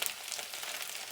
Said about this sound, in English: Now I'm not sure if you can hear my pan, but it's doing a lot of popping